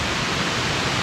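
Bradley Fork Creek in the Great Smoky Mountains rushes past close by, a loud, steady wash of flowing water with no voices.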